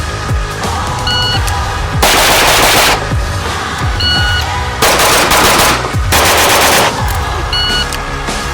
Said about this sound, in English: the point of this is the fastest you can shoot and still control the gun